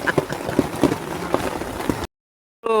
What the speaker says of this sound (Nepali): असिना खस्नु थालेको छ है यहाँ